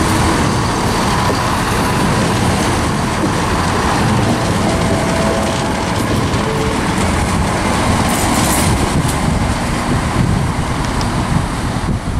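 A train runs through Wolverhampton station on the West Coast Main Line, a loud continuous rumble and rattle of wheels on rails filling the whole stretch, with brief metallic squeals near the end.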